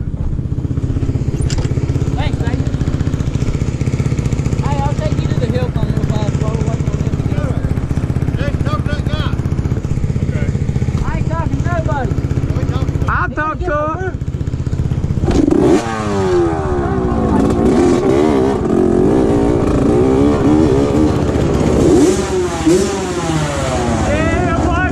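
1989 Honda CR80R two-stroke dirt bike engine running and revving, a loud continuous buzzing drone with rising and falling pitch sweeps, close up, with people talking over it.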